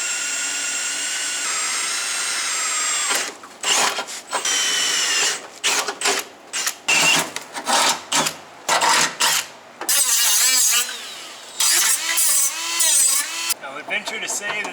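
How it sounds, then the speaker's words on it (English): Drilling into bodywork and fitting a rivet nut on an abandoned Mazda FC RX7: a sustained drill whine opens, then comes a run of short, stop-start bursts of drilling and tool noise, loud and close, with no talk over it. "Drill and rib nut for back here."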